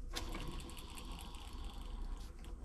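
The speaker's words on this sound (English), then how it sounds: "Let's see how noisy bearing number 1 is." A slightly noisy jet ski bearing spins by hand, giving a steady close whirring rumble with a faint rattling, ratchet-like texture and no voices.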